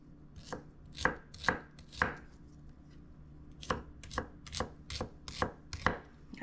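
A knife chops an onion with diagonal cuts on a board, sharp distinct knocks in two short bursts: several quick strikes, a brief pause, then a steadier run of evenly spaced chops, close and clear with no talking.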